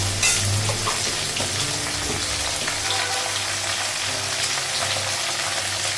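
Ginger paste hits a hot frying pan and sets off a steady, dense sizzle with a faint low hum behind it. The sizzle carries on evenly throughout, and no one speaks.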